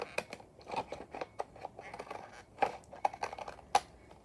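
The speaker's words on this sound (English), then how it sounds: "now the fun part where we will cut these up" Scissors cut up a paper collage masterboard into vintage French tags, making a quick run of close, crisp snips and paper rustles.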